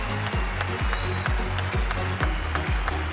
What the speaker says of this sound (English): Give them all a big round of applause for their contribution.